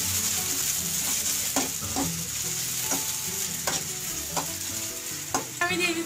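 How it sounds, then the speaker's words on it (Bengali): Chopped onion frying in a pan is stirred over a constant sizzle, with a spoon scraping and knocking against the metal at irregular intervals, up close and without talk. "আমরা পেঁয়াজটা একটু নাড়বো"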